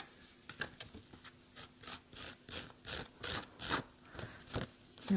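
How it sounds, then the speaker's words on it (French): A scissors blade rasps along the edges of a paper card for a baroque mixed-media card, giving a run of short repeated scraping strokes, close and fairly soft, with no talking. "j'ai pris mon ciseau pour pouvoir râper les bords"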